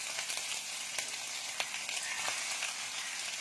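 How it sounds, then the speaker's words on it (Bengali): Whole cumin, dried red chilies and green chilies frying in oil for poha, a soft continuous sizzle with a few sharp crackles and light stirring taps, quiet and close. "গোটা জিরে, শুকনো লঙ্কা, হালকা নেড়ে তার মধ্যে দিয়ে দেবো কাঁচা লঙ্কা"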